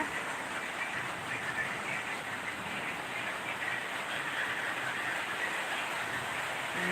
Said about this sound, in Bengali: এখন আমাদের এখানে বৃষ্টি পড়ছে দেখুন দেখাচ্ছি বৃষ্টিটা